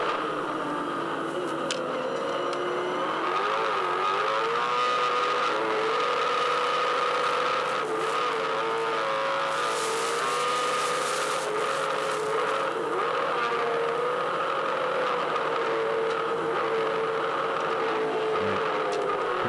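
A V8 Supercar race car struggles with massive clutch slip, its engine droning loud and steady with wavering pitch and a screechy tyre-like edge throughout, without pause.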